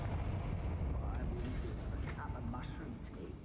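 Confringo fire spell blast in the Hogwarts Legacy video game, a booming explosive burst with crackling rumble that rolls on under game sound effects.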